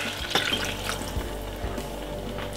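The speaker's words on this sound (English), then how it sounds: "Then add 3/4 glass of water." Water poured from a tall glass into a pan of fried vegetables for a Jamaican fried chicken gravy, a short close splashing and trickling pour with small liquid bursts.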